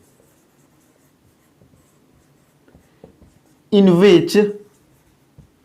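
Writing on a board during a Class 9 chemistry lesson gives faint, scattered scratching strokes, followed by a short burst of a teacher's voice and then a last light stroke.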